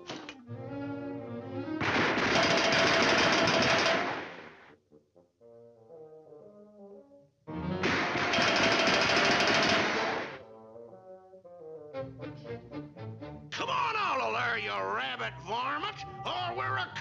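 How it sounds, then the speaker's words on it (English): Cartoon gunfire aimed at a hare, two long loud blasts of booming shots, each about two seconds, separated by orchestral music and character voices, with more music at the end. "You may fire when ready"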